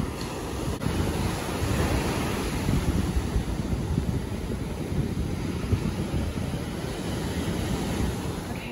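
Ocean surf on a coastline during a rocket launch, a broad continuous roar of waves mixed with wind buffeting the microphone, steady and loud throughout.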